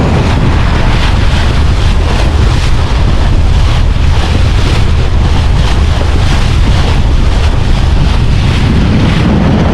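Loud, strong dry wind roaring continuously over a reservoir in rural Laos, buffeting the microphone with a dense rumbling rush that never lets up.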